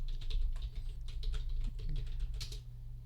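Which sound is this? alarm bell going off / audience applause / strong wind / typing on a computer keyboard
typing on a computer keyboard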